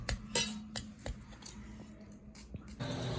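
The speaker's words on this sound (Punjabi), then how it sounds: "ਭਾਂਡੇ ਮਾਜ ਰਿਹਾ ਹੈ" Utensils being washed by hand, with a string of sharp metallic clinks and clatters of dishes and cutlery close by, irregular and quick, separated by brief quiet gaps and a short rinse at the end.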